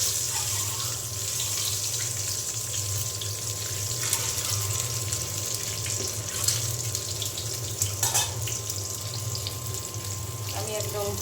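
Eggs fry in a generous amount of oil until browned, giving a continuous loud sizzling hiss with faint crackles, heard close and without pause.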